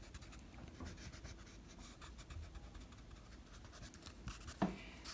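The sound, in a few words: erasing pencil guidelines on a drawing of eyes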